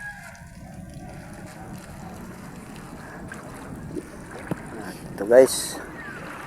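A bangka fishing boat out on the open sea under heavy cloud churns through the water with a steady broadband rush of wind and waves. Someone speaks briefly over it and a short louder burst rises near the end.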